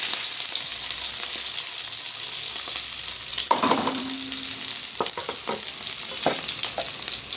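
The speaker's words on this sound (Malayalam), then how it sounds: "കടുക് പൊട്ടിക്കഴിഞ്ഞ് സവാളയും പച്ചമുളകും" Chopped onion and green chilli sizzle in hot oil after mustard seeds have popped. The bright frying hiss is steady, broken midway by a few spoon-scraping stirs.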